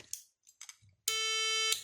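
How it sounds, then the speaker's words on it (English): Electronic beep from a guitar amplifier's power switch circuit: a single steady, loud tone lasting about two-thirds of a second, preceded by faint clicks and handling noise. "Switch it on, beep."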